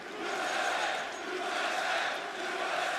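Esports arena crowd at a CS:GO major playoff match chanting in unison, a dense, steady roar of many voices swelling and easing in waves, loud and continuous with no distinct talk on top.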